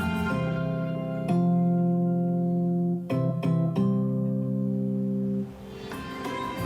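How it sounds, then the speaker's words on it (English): AD Ports Group sonic brand logo: a sustained harmonic musical phrase with rich layered tones, a struck accent near the start and a cluster of quick hits around the middle, fading into a brighter, airy close. "This is the sound of AD Ports Group"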